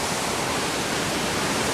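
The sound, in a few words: massive waterfall in Scotland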